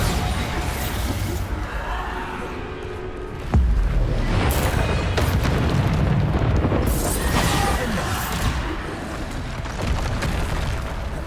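Bombarda spell explosions in Hogwarts Legacy, cast in combat: repeated booming blasts and crashes layered over constant battle noise, with one sharp loud burst partway through and voice lines mixed in.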